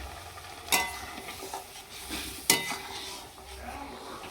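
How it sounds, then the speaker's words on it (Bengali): Curry leaves dropped into a hot pan over a lowered gas flame, with two sharp clattering hits of a utensil against the pan over a soft, continuous sizzle and some light stirring. "দিয়ে দিচ্ছি সামান্য কটা কারি পাতা"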